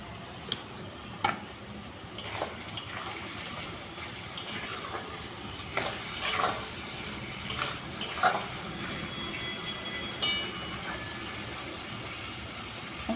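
Capsicum, carrot and beans fry in a pan with salt, giving a quiet, steady sizzle broken by scattered clicks and scrapes of stirring.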